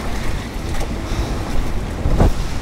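Storm waves in the North Sea strike a small sailboat in winter, a steady roar of wind and water building to a loud, heavy slap of a wave against the hull near the end.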